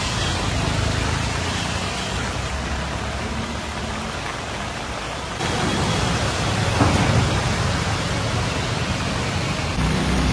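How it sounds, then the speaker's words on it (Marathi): Heavy rain pouring in Thane city, a dense continuous roar that steps up louder midway, with faint traffic mixed in and no voices. "मुसळधार पाऊस आहे"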